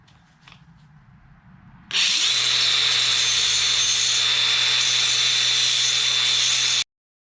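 A power grinder sharpening push lawnmower blades: after faint background noise, a loud, harsh, steady grinding whine kicks in and holds for about five seconds before cutting off abruptly.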